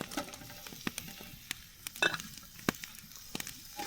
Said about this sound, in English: Some bacon sausage frying up, some potato hash